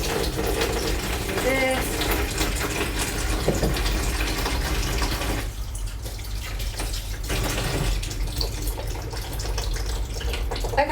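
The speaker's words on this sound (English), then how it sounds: "Let's give our hands a little wash." A kitchen tap runs steadily while hands are washed during Christmas roast dinner cooking, a broad close rush with splashing shifts and a brief change in the flow midway, and a voice speaks briefly over it.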